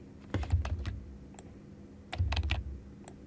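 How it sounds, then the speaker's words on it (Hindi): Quick bursts of computer keyboard and mouse clicks, with an Alt key held while clicking on shape points in Silhouette FX rotoscoping software; two close clusters of sharp taps with a pause between, no speech. "ऑल्ट प्रेस करके क्लिक किया"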